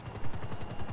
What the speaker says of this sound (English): What was this explosion?